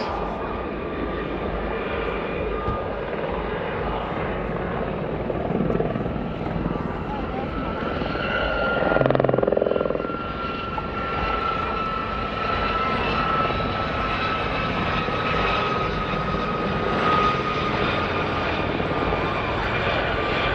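Ex-RAF Gazelle helicopters fly past at the Cosford air show in 2024, a loud, sustained rotor and engine roar that swells midway, with an announcer's voice heard over the aircraft.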